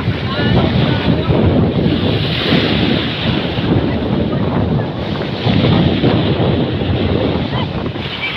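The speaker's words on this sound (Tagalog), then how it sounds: "Malakas ang alon." Strong ocean waves and gusting wind at night off the coast of Batangas during traditional night fishing from a boat, a loud continuous roar of surf and wind buffeting the microphone, with faint voices underneath.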